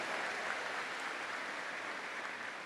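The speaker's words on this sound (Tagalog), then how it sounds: "Malakas na palakpak mga tugang." An audience applauding at a rice distribution event, a steady dense patter of many hands clapping, moderately distant and sustained throughout.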